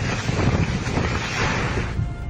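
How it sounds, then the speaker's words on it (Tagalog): Strong typhoon wind gusts roar and buffet the microphone in the town of Dinapigil, a loud, rumbling, continuous blast that surges and eases slightly over a couple of seconds. "Malakas din ang bugso ng hangin sa bayan ng Dinapigil."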